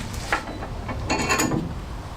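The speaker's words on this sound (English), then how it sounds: "Just take the bolts out for a second." A hand tool clicks as it backs bolts out of the fuel tank on a classic Fiat 500, in a short run of soft ratcheting mechanical ticks over steady background hum, with no speech.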